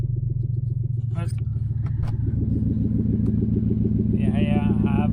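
A Lexus LS400 with a 4.0 V8 idles with an exhaust leak, giving a steady, close, pulsing low rumble with a ticking beat, while someone talks over it.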